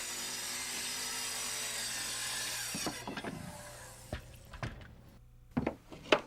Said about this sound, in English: And here's a riser being cut.